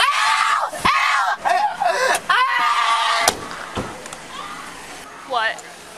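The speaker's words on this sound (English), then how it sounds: "Why is she screaming like that?" A woman screams repeatedly in loud, shrill bursts at close range during a domestic disturbance, with pauses between outbursts, a sharp slam and other voices talking in between.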